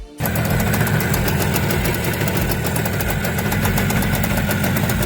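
An IZh Jupiter motorcycle fitted with an SDI engine turns over on its first start and settles into a steady, loud running rumble with a slightly knocking, uneven beat, close by.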